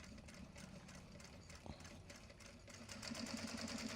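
A sewing machine stitches Japanese fabric for accessories or bags, a steady fast mechanical whir that picks up speed toward the end, close and continuous with no talk.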